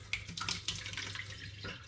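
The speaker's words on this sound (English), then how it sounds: "I'm going to take the rest of the black tar and I'm going to pour that" Dark, tarry porter wort for a raspberry ripple home brew poured into a sieve, a steady close splashing, trickling stream of liquid that runs without pause for about two seconds.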